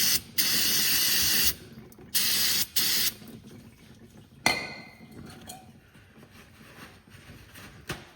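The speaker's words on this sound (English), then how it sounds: "Give it a little spritz." Brake cleaner sprays from an aerosol can onto a 2020 Nissan Sentra during an oil change, in three sharp hissing bursts, one long and two short, followed by quieter clinks and handling noises.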